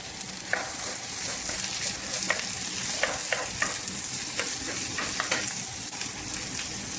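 Fried rice with hotdog pieces, corn and green peas sizzles loudly in a pan while it is stirred, with steady frying hiss close up and repeated sharp scrapes and clinks of the utensil. No speech.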